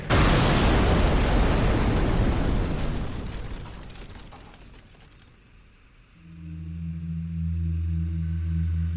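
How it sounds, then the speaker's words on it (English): A crashed hopper blows apart in a sci-fi audio drama: a loud, long explosion with a broad roar that fades over several seconds. A low steady hum and drone follow alone. "the remains of the hopper exploded"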